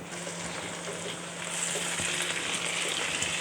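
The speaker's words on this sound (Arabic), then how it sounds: "هنسيبها كده تاخد صدمه مع السمنه والبصل ونقلبها" Chicken drumsticks searing in hot ghee with onions give a dense, continuous sizzle that swells louder partway through, close up with faint stirring clicks.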